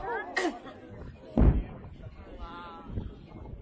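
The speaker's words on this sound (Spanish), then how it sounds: "Oigan las bombas." A deep, muffled boom of distant bomb explosions rumbles, heard among scattered voices and other background sounds.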